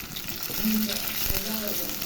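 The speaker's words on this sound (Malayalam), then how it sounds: "ഇനി നമുക്ക് പച്ചമുളക് ഇട്ട് കൊടുക്കാം" Green chillies frying in a pan with browned onions and curry leaves, a steady close sizzle and crackle across the whole stretch, with a couple of short scraping stir sounds and no talking.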